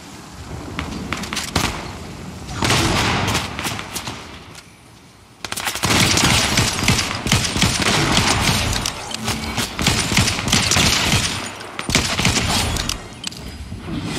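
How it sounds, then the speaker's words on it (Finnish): Rapid bursts of automatic gunfire and shotgun blasts in a battle royale video game during a storm, loud and continuous with a brief lull before a dense, sustained volley of shots. "Ammutaan ihmisiä."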